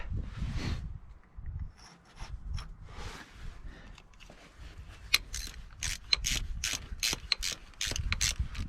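Ratchet clicking on a hydraulic remote fitting of a New Holland Genesis 8670 tractor, quick bursts of sharp metallic clicks with short pauses, close and fairly quiet, with faint mechanical rubbing between strokes.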